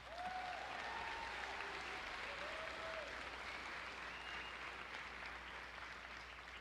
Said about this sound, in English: Please give a round of applause for Mackenzie Velocic.